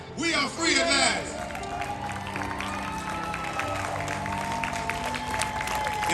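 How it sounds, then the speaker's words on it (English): An audience applauds and cheers loudly after a Martin Luther King speech performance, with dense sustained clapping, crowd babble and some shouts that surge at first and then continue at a steady level. "Give him another round of applause."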